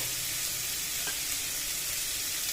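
Onion and green chillies sizzle in a pan for a raw banana stir-fry, a dense, even hiss that holds steady throughout.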